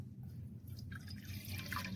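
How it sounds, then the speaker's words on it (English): Water is poured into a bowl of flour for bread dough over an outdoor fire, heard as faint, close splashing and dribbling over a low background hum. "The first step to making this bread is to add this water"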